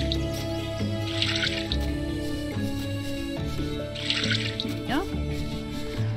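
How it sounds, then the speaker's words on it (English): Watering plants in the Littlewood video game: soft splashing, dripping water bursts recur twice over looping game music, with no talking during the splashes. "I'm just gonna water all these, just cause I can."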